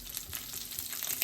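Green chilies fry in hot oil in a kadai, giving a continuous close sizzling hiss with faint crackles and no pauses over a short moment, with no voices.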